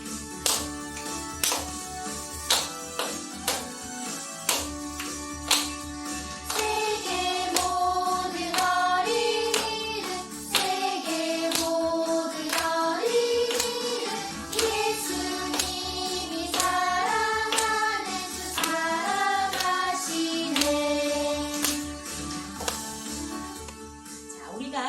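Children in a church class clap their hands in a steady beat while singing loudly along to music, the claps sharpest near the start and then blending into the song.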